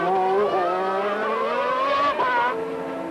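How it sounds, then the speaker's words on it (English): Formula 1 race cars from the 1991 season, with Jean Alesi's Ferrari leading and Senna close behind, give a steady high engine whine that shifts pitch as they pass, loud and continuous with a brief change near the end. "So Jean Alesi's Ferrari had the lead, with Senna a close 2nd"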